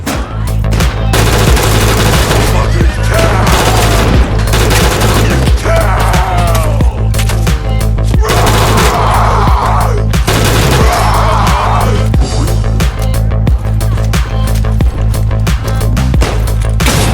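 Sustained bursts of rapid automatic gunfire in Fallout 4 with heavy booming impacts, loud and continuous throughout, over a dense background of game sounds.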